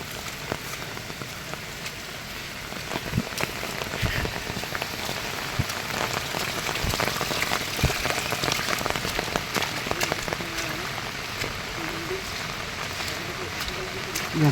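Heavy, unbroken rain pours outdoors around a hut during a gathering of supporters, a loud, dense hiss of drops on surfaces with occasional sharper splashes, and voices faintly underneath.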